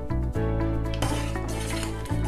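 A spoon stirs green chutney into spiced pani puri water in a bowl, with steady swishing and clinking against the vessel, close and fairly loud with no talk.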